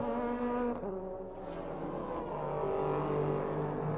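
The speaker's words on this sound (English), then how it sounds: "These Porsches, of course, the flat 6 engine" Porsche race car with a flat-six engine at the 1997 24 Hours of Le Mans, its engine a steady loud drone with tones shifting in pitch, heard without talk.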